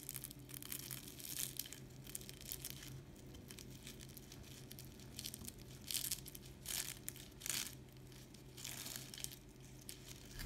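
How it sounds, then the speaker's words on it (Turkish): A knife cuts through a crispy, layered şöbiyet dessert, making a steady, faint crackling and crunching with brighter crisp snaps here and there and no talking. "Keserken tatlımızın ne kadar çıtır olduğunu duyuyorsunuz."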